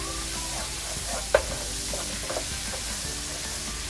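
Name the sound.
stirring garlic butter sauce for crabs in a pan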